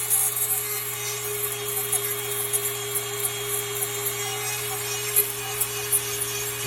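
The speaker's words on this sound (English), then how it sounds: "I just use a little Dremel tool with the grinding little rod on here." A small Dremel rotary tool with a grinding rod hums steadily at close range with a high whine while grinding a bevel on a blade, with faint scraping bursts over the constant motor tone.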